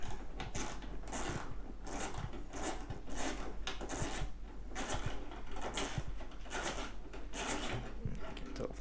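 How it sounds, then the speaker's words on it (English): A socket wrench loosens a nut on a CriCri homebuilt aircraft's battery box and nose cone mount, giving continuous close rasping ratchet clicks with steady grinding texture throughout, no talking. "you can see I can fit a socket right in here. Just loosen this up."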